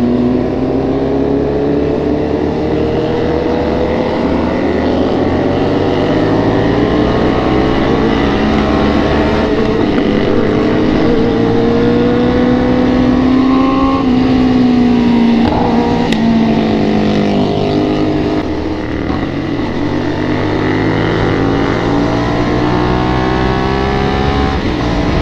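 A motorcycle engine revs loudly and continuously, its pitch rising and falling as it accelerates and shifts, close and steady throughout.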